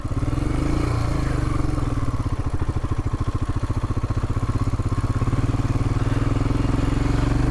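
A Royal Enfield Himalayan motorcycle engine chugs at low revs in first gear climbing a mountain trail, a steady close pulsing thump that holds an even rhythm as it labors along.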